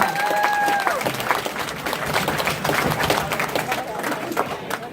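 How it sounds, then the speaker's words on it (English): Steady applause from a crowd, dense and continuous for the whole stretch, with a brief tonal sound at the start. "go ahead, clap."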